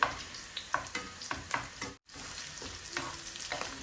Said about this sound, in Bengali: আমি 3টা শুকনা মরিচ দিছি একটু ভাজা হইবার লাগে।